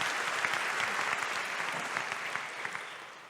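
Audience applause fills a keynote hall at a WordPress conference, a steady wash of many hands clapping throughout, fairly even and sustained with a few sharper claps standing out.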